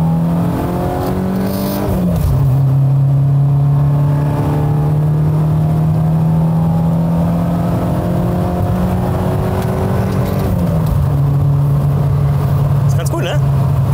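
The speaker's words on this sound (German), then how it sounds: "Und dann geben wir gleich mal Gas und dann könnt ihr das mal hören." A BMW 318is Class 2 race car accelerating hard from inside the cabin, engine note climbing steadily through two long pulls with a gear change around the two-second mark and another near ten seconds, loud and continuous throughout.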